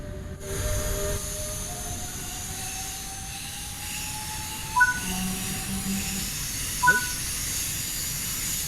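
A train accelerating on the Bremen-Oldenburg route in Train Sim World 3, with a low rumbling drive, a slowly rising electric whine and a steady hiss, plus two brief clunks partway through.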